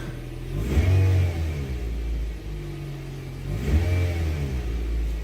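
Toyota Yaris T-Sport engine revved twice while stationary, each rev climbing and falling back to a steady idle, close and fairly loud with no talking.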